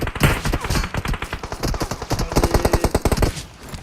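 Rapid automatic gunfire in the mobile battle royale game PUBG Mobile, a loud, sustained run of closely spaced shots lasting several seconds, heard alone without speech.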